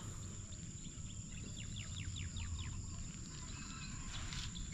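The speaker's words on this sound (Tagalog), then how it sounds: "Wala kang ibang marinig dito sa umaga kundi mga huni ng ibon" Morning birdsong at a farm: repeated chirping calls in quick bursts over a steady insect drone, moderately distant, with a low rumble of ambient noise and no voices.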